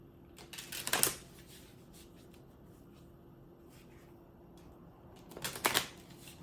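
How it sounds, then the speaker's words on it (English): Flower oracle cards shuffled in two short bursts, a riffling flutter at the start and again near the end with quiet room tone between, close and fairly soft, no talk. "Let's pull a flower card for you, Capricorn."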